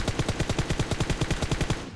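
Gunfire in PUBG Mobile: a rapid, evenly spaced automatic burst of about twenty loud shots in two seconds, close and alone, trailing off at the end.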